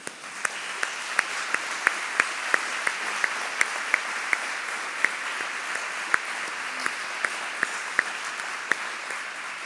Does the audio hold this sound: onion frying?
no